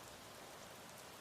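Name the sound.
rain drumming against a roof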